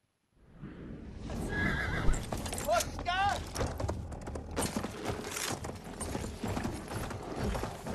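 Cavalry horse in the World War I shooter Battlefield 1 letting out a loud whinny, followed by steady galloping hoofbeats and battle clatter, with someone talking over it throughout.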